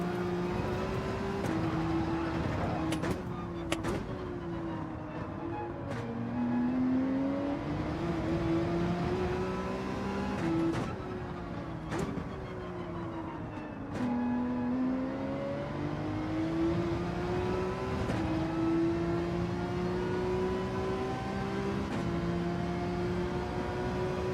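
A Ferrari race car in Gran Turismo 7 revving hard, its engine pitch climbing through the gears and dropping with each shift over a long continuous run, loud and close with no voices.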